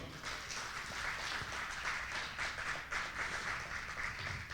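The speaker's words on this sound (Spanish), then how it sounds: "¿Alguien le da un aplauso al Señor?" A church congregation applauds in a steady, continuous patter of many hands clapping, heard at a modest distance and fairly quiet, with no talk over it.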